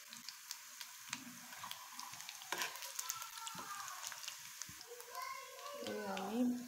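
Cumin seeds sizzle in hot oil alongside garden onion, garlic and green chillies frying for an aloo-begun ghonto, a faint steady crackle with a voice speaking over it and children's voices in the background.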